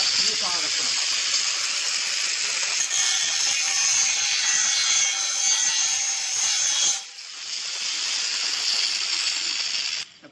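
Angle grinder fitted with a stone cutting disc grinding through material in one long, loud, harsh continuous whine, dipping briefly before resuming and cutting off at the end.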